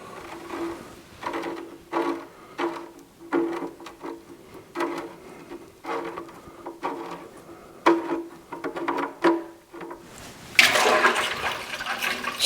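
Old engine oil drains from an Allis Chalmers motor grader into a pail, a steady trickling and splashing with irregular pulses through most of the clip, swelling into a louder gushing stream near the end.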